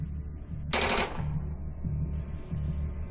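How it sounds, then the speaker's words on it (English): Gunfire in an action movie: a sharp burst of rapid shots cracks out loudly for about half a second over a steady low engine-like hum. "That sounded like gunfire."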